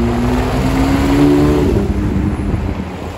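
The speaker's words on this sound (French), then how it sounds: "Deux GT3 Touring." Porsche GT3 Touring sports cars roar past one after another on a Paris street, engines loud and close with a rising then falling pitch, tires rumbling on the road.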